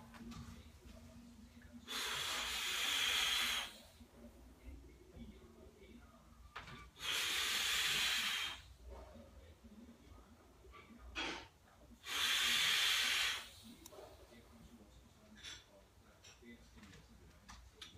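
E-cigarette vaped at 165 watts in a cloud-chasing style, with honey-flavoured VG liquid: three long, loud hissing exhales spaced about five seconds apart, with quiet breathing in between.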